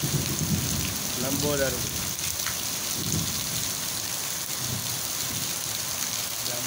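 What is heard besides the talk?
rain falling in a village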